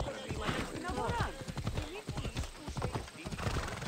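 Horse hooves clip-clop at a steady gallop in Assassin's Creed Odyssey, loud and close, with someone talking over the hoofbeats and a brief whinny.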